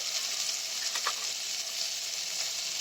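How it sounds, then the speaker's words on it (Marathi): Spices sizzling steadily in a hot pan while sautéed for green mung dal khichdi, a dense even frying hiss with a brief stir sound, no talking. "मसाले पण मस्त परतले जात आहेत."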